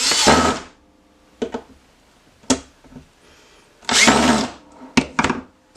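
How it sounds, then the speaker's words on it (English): Short bursts of a power drill whirring as it tightens screws into a wooden tray, three or four separate runs of a second or less with quiet gaps between them, close by. "I like to tighten mine with my power drill"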